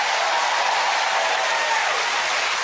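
Studio audience on a family game show applauding steadily, a dense, even wash of clapping that fills the whole moment at close, loud level with no pauses.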